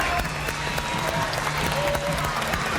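Steady applause from players and fans at a Little League World Series baseball game between Washington and Connecticut, dense continuous clapping with crowd noise throughout.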